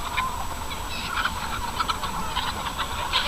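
A flock of chickens, some molting, clucks softly and continuously in a coop, with scattered short calls rising over a steady low background hum.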